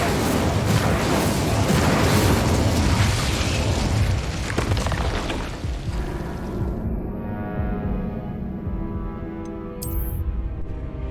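An Incendio fire spell erupts in Hogwarts Legacy as a loud, sustained roaring blast with rumbling booms and crackling bursts, dense at first and then thinning into a fading rumble.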